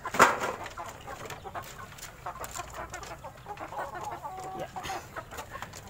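Shamo and heritage free-range chickens cluck in a yard full of birds, with short scattered clucks and a sharp call near the start, while someone speaks briefly.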